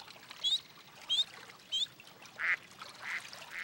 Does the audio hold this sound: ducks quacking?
yes